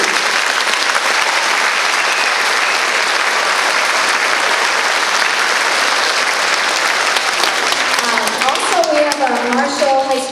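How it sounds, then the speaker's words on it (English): School concert audience at a first and second grade performance giving loud, sustained applause for the piano accompanist, a dense wash of many hands clapping close by, with a voice starting to speak near the end. "I'd really like you to clap for her"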